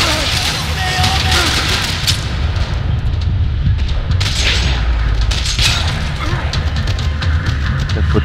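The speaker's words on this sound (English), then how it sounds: "Another parking lot rattling with gunfire." Gunfire rattles through a parking lot in the video game Max Payne 3: loud, dense bursts of shots and booming impacts, nearly continuous, with sharp cracks standing out, and game voices mixed in.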